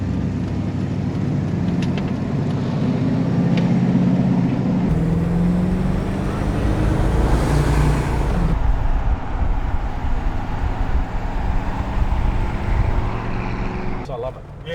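A car fitted with a Trimatic automatic gearbox hums along at steady cruise, a low continuous engine and road drone with a shift in tone partway through, interior noise close and even.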